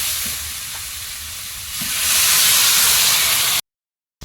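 Water poured into a hot pan of fish curry with potatoes sets off a loud rising hiss of steam that swells and holds, then cuts off abruptly into silence.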